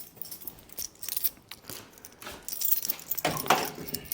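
A bunch of keys jangles close by in short, irregular metallic rattles over a few seconds, with no talking.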